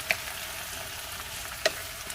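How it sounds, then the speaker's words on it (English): Potatoes, tomato and jalapeno sizzle steadily in a pan as they are mixed, a continuous frying hiss with two sharp utensil clinks against the pan. "Going to go in with the tomato, jalapeno, give it a mix."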